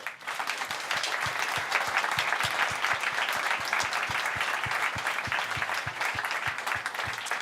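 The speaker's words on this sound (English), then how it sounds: "I think we owe you one last round of applause." Sustained audience applause at an annual conference, a full, even roar of many hands clapping with a steady rhythmic clap cutting through near the front, continuing without talk for several seconds.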